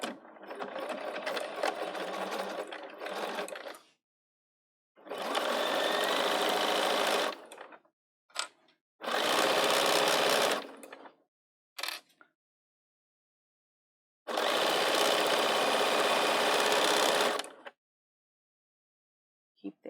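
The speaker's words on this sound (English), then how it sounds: "For this, I use the 1/4 inch foot first. And we're going to sew a 1/4 inch right here." A Bernina 770 sewing machine stitches a quarter-inch seam, running in several steady bursts of a few seconds each with brief stops between them, close and clear with no talking.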